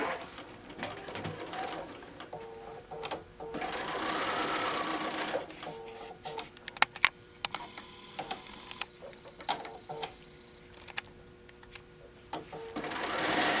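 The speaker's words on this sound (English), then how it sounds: "we're going to start stitching at my 1/4 inch seam" A sewing machine stitches a fabric placemat made from a panel along a quarter-inch seam, its motor whirring in steady bursts with short pauses and ticks between runs, close and moderately loud.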